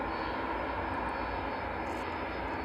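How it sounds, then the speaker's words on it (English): A West Atlantic Boeing 737 on the runway at East Midlands Airport produces a steady, unbroken jet roar that holds at an even level throughout, with no voices. "we'll watch the West Atlantic 737 roll out"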